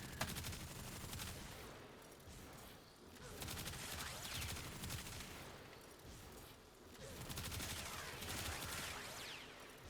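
Basmu weapon fire in the game Warframe, a continuous dense rattling stream of shots that swells and dips in waves, loud throughout with no pauses.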